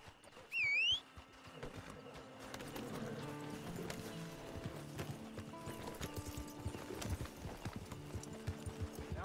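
Horse hooves clip-clop steadily through a Red Dead Redemption 2 game scene, a rhythmic mid-level patter running the whole time beneath a short whinny near the start and scattered game sounds.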